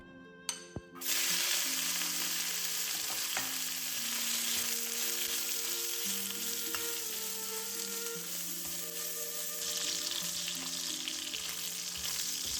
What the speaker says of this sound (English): Add a tiny amount of oil to the wok and cook the pork belly until well seared.